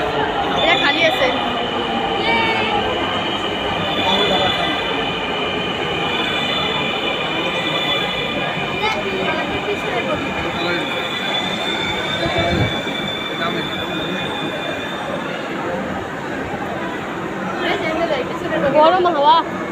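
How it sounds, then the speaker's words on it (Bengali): A metro train arriving at the station, with a loud sustained rumble of wheels and high squealing from the rails, heard close on the platform against crowd chatter. "আরেকটা আছে মেট্রো চলে এসেছে"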